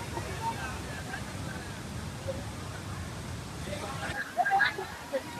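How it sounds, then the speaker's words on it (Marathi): A forceful monsoon waterfall at Kuderan, Badlapur rushes as a constant broadband roar of heavy water, with a short voice and wind bumps rising near the end. "एवढा पाणी आहे, भयानक फोर्स आहे पाण्याला, जबरदस्त."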